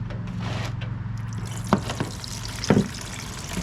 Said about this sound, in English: So, yeah, carb drips while it sits.